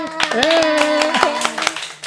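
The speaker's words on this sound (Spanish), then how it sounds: "¡Fuerte aplauso a la pastora!" Hands clapping for a pastor in a church podcast setting, a short burst of claps mixed with voices talking and laughing over it.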